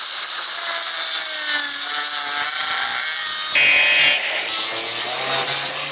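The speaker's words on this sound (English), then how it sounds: "So the tool that I'm going to use to cut is this angle grinder right here by Black & Decker." A Black & Decker angle grinder cuts through a metal floor transition strip with a loud, continuous, close-up shriek of grinding. Its pitch drifts and shifts abruptly as the blade bites into the strip.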